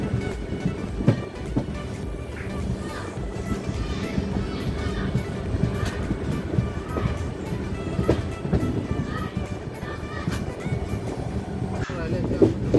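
A train rumbles continuously with rhythmic clatter and occasional clanks, heard from aboard near Kudal station on the Konkan route, steady and fairly loud with some voices mixed in.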